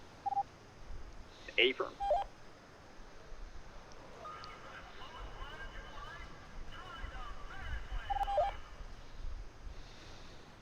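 Phone dialing tones beep in short bursts in FiveM, a faint electronic sequence with a longer run of tones later, mixed with breathing and a brief spoken word.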